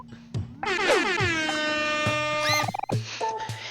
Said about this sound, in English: Use big air horn on the sleepy mole?